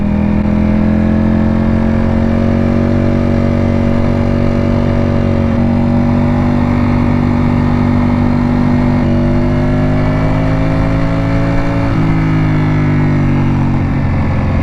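A Ducati Panigale V4 with its Desmosedici Stradale V4 engine roars loudly and continuously while being ridden along a twisty road, its pitch rising and dropping through gear changes.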